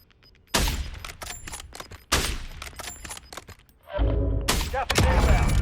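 Bursts of rapid automatic gunfire from an enemy's Maverick gun in a video game, three or four loud, dense volleys separated by short pauses, with some chatter faintly underneath.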